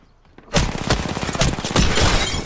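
After a brief quiet moment, a Tripletake shotgun fires in a video game: a loud, rapid series of blasts that runs to the end of the clip.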